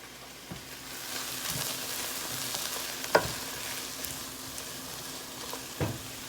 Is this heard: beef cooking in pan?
yes